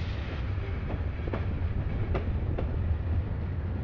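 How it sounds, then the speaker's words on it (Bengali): Kurigram Express passenger train running on rails after leaving Kaunia, with a steady low rumble and faint rhythmic clicks of the wheels heard from inside a carriage. "এখন যে ট্রেনে যাচ্ছি এটা আসলে কুড়িগ্রাম এক্সপ্রেস।"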